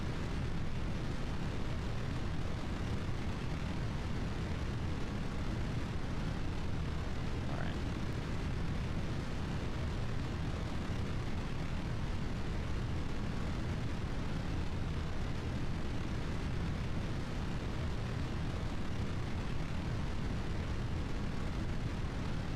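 Rocket engines at launch in Kerbal Space Program, a tall many-part rocket throttled up on the pad, give a steady, dense roar that fills the whole stretch without letting up.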